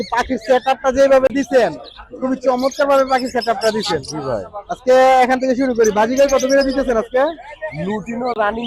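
Birds chirp and coo at the Mirpur bird market in Dhaka, partly buried under loud, close conversation between people.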